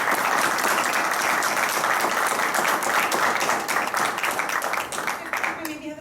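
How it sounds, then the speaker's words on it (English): Sustained applause from a crowd gathered at a town council meeting, steady dense clapping throughout, slightly thinning toward the end. "all these people deserve a great round of applause"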